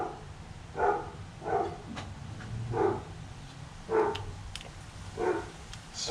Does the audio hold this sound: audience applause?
no